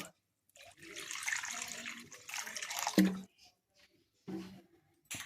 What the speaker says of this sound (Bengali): এরপর কড়াতে আমি দু বাটি মতো জল দেব